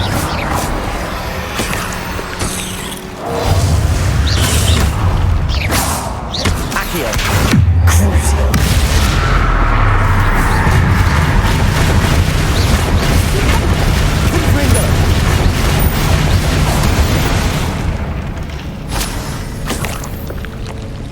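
Repeated blasts of the Confringo fire spell in the game Hogwarts Legacy, a dense rumbling barrage of booms and crackling impacts that runs almost continuously, loud and close.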